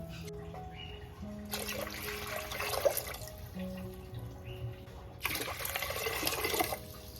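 Water is poured into a cooking pot of salted water on a home stove in two separate bursts of rushing, splashing flow, with a quieter stretch between them.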